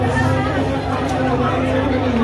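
At a haldi ceremony, a packed crowd keeps up a steady wash of overlapping chatter and babble, close and loud throughout.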